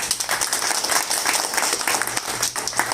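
A crowd applauds with sustained, dense clapping to welcome a new state president at a political party gathering, a steady wash of many hands throughout without a break.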